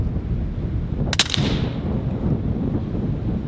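A single sharp crack from a .30 caliber Western Sidewinder air rifle fired at an outdoor range, loud and close, rising out of steady background wind and dying away quickly.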